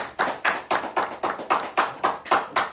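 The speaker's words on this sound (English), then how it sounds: "round of applause" A small group claps in a quick, steady rhythm, about eleven crisp, close-up hand claps over a few seconds, with no voices.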